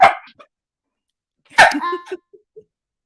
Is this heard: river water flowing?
no